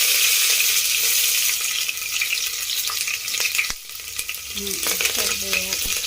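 Mustard seeds and onion dropped into hot oil crackle into a loud, dense sizzle that eases slightly midway, with a sharp pop and later some stirring clatter and faint tonal sounds in the background.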